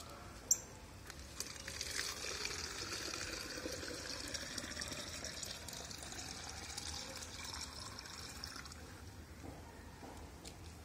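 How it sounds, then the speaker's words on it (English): A plastic bottle filling with water, a continuous gushing, gurgling stream that runs steadily for about ten seconds after a brief knock at the start. "Now fill this bottle with the water."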